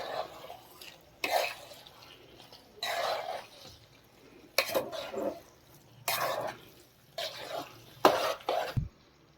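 A spoon stirs rajwadi khichdi with peas, carrots and peanuts in a pot, giving soft, wet scraping strokes in short bursts with quiet pauses between them.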